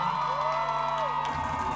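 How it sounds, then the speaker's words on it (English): Crowd at a live concert cheering and whooping with scattered claps, a steady dense roar of many voices throughout, loud and sustained. "I just want to give Ramesh a round of applause."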